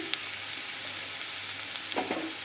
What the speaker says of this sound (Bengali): আর বাকিটাকে খুব ভালো করে আমরা ভাজা করে নিচ্ছি।